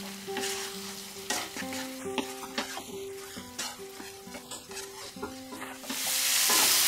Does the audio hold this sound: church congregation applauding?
no